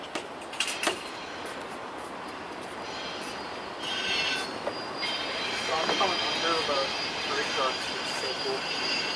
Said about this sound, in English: looks absolutely beautiful as the train passes overhead